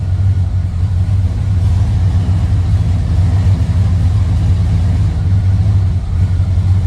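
A Chevy 5.7 L V8 idling rough after new spark plugs, its RPMs jumping a little. A loud, continuous low engine rumble runs throughout, close by and uneven, with no voices over it.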